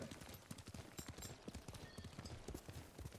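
In the video game Ghost of Tsushima, a horse's hooves clip-clop in a steady trotting rhythm, close and crisp, with faint ambient sound beneath and no talking.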